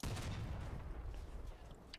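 Tank cannon fire in the vehicle combat game Crossout, with a heavy boom at the start, a dense rumbling blast and a decaying tail over two seconds.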